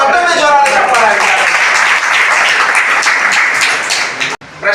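Loud crowd applause at a district-level school quiz competition after a correct answer, dense steady clapping from many hands filling the room before tapering off abruptly.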